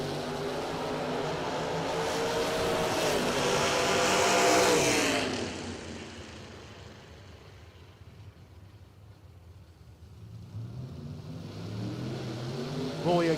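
Drag-racing cars roar down the strip at a doorslammer nationals event, a loud sustained engine blast that swells then fades into the distance before another engine rises again near the end.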